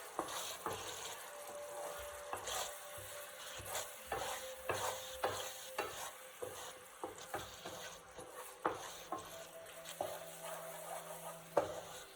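A spoon stirs a chicken sauce thickened with cornstarch in a pan, soft repeated scraping strokes in a steady rhythm over a faint low sizzle, fairly quiet and close.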